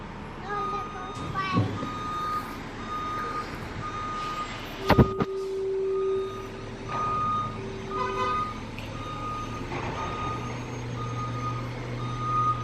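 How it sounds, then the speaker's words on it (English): A garbage truck reverses nearby, its steady electronic beeps sounding in a repeating series over a low diesel engine rumble, with brief voices and a sharp knock partway through. "Is that the garbage truck?"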